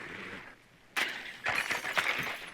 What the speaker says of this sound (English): So let's actually smash the glass.